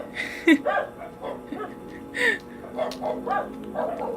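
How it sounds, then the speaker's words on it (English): Several short dog barks and yips ring out at irregular moments, fairly close, with a low background hum between them. "The dogs are barking."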